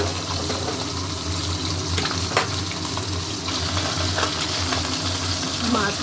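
Fish fries in hot oil with a steady, dense sizzle and crackle that runs the whole time, moderately close and continuous, with a few faint clinks of stirring.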